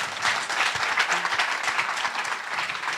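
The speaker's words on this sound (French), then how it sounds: "On peut l'applaudir quand même pour l'encourager." Steady audience applause from many hands, a dense continuous patter that holds at an even level throughout.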